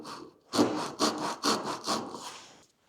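A Japanese back saw cuts wood along a scored knife line in five quick, even rasping strokes, close and clear, in a quiet workshop.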